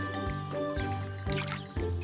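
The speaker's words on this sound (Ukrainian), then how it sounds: "а тепер змиває піну водою зі стаканчика" Foam being rinsed off with water poured from a cup, heard as soft splashing and squishing in short bursts roughly every half second over a musical backing.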